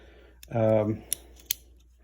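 A short metallic rasping buzz is followed by two crisp clicks of a multitool's small scissor blades snapping shut, close and fairly quiet.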